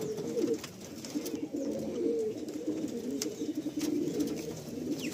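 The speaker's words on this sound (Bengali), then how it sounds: "এই হচ্ছে কালো পায়রা" Black Madrasi pigeons coo in a loft, a steady layered murmur of several birds, moderately loud and unbroken, with no voices.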